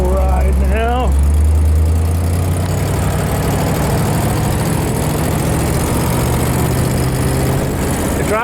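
1955 Ford Thunderbird engine running as the car drives off on a test drive, a low steady rumble close by, with someone speaking briefly at the start.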